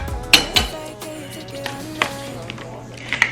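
Chopped ginger goes into a cooking pot with a few sharp metallic clinks and taps near the start, then lighter knocks over a steady low hum.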